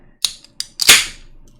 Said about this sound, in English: I also just realized I didn't crack open this beer.